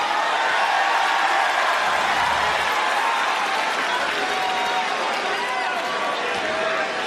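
A large wrestling arena crowd cheers and applauds continuously, a dense, loud wash of clapping and voices that holds steady throughout.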